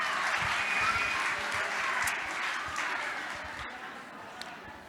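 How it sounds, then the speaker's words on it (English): Sustained audience applause at a charity kitchen's gala, a dense wash of many hands clapping steadily for several seconds and slowly tapering. "let's give him a round of applause"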